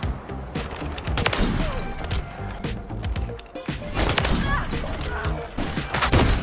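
Rapid sniper rifle gunfire from a first-person shooter in search and destroy mode, with loud sharp shots and bursts over a busy game soundscape, under excited player talk.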